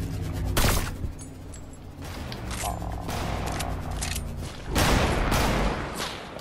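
Rapid bursts of gunfire in a sniper-focused video game, loud and repeated, with heavy shots cutting through a steady background of game noise and music.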